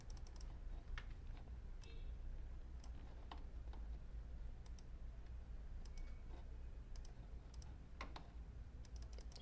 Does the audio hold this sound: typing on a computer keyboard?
yes